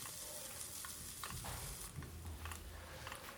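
Finely chopped large onion sautés in a pan for an Indian-style capsicum egg fry, giving a steady close hiss and sizzle with faint stirring scrapes and no talk.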